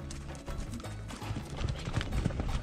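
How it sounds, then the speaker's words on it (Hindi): Ridden horse walking with Mongolian nomads, hooves clip-clopping in an uneven steady gait, close and moderately loud with no talk. "Horse riding."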